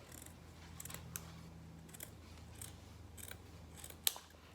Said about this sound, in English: it can be a little bit difficult to cut the felt, so just go slowly